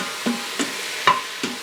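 Meat browning in an Instant Pot for chili gives a few separate scraping, stirring knocks with a soft sizzle between them, close and fairly quiet.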